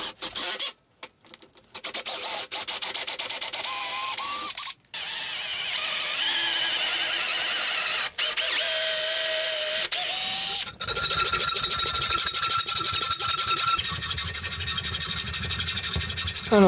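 Drilling through two pieces of wood on a workbench base to pass a 12 mm threaded rod for mounting a bench vise, with loud sustained grinding and whining bursts broken by short pauses, heard up close with no talking.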